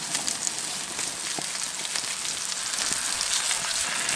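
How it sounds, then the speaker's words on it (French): Thick sole fish laid on a plancha in butter, a steady bright sizzle with faint crackles, close and continuous, no voices. "on va venir mettre directement notre sole sur la plancha"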